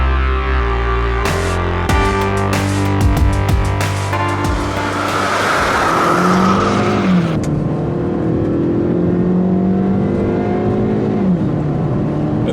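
A 2015 Hyundai Sonata Sport with a 2.0L turbo engine accelerating hard from a standstill to 60 mph, its engine note climbing in pitch through the gears, loud and continuous throughout, with brief drops at the shifts.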